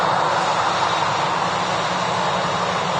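A Boeing 787 Dreamliner at Manchester Airport gives off a loud, steady jet engine roar that holds constant throughout, close and unbroken, with no talking.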